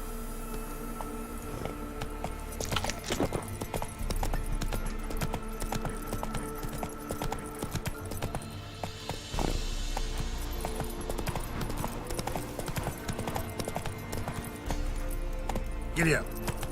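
Roach, the horse in the video game The Witcher 3, gallops with a steady run of hoof clip-clops beneath a dense bed of game music and ambience, with voices talking over parts of it.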